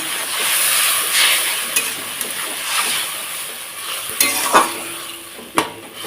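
A little water hits taro stolon curry frying in a pan and sets off a loud, close steamy hiss and sizzle, broken by a few sharp clanks of stirring against the pan.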